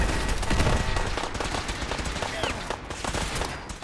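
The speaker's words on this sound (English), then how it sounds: "Then these turrets should kill them all." Automated turrets in Fallout 4 open up on gunners with rapid, dense machine-gun bursts, loud and close, fading somewhat toward the end.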